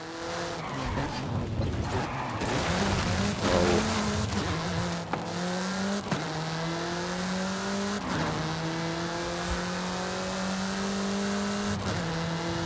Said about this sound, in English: Get some speed, then turn into the countryside. Really see what this car can do.